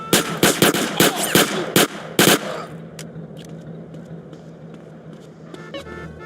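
Gunshots in Grand Theft Auto: San Andreas come as a quick, loud volley of about eight sharp shots in the first two seconds, then give way to quieter ambient game noise and a few faint clicks.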